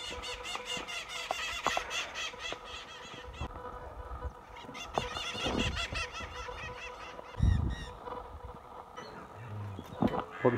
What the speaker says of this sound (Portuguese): Gravando a algazarra do periquito